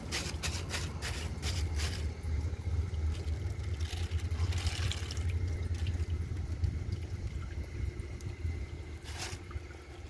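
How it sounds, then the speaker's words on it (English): A 2000 Crane Metro toilet tank refilling with water, a steady continuous rushing and hissing hum that holds at an even level throughout, with a few faint drips and clicks on top. "when the tank is finished filling, which shouldn't be too long"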